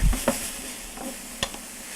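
Garlic sizzling in a skillet of softened onions, a steady close fry with a few sharp stirring clinks near the start and middle of the short stretch, no talking.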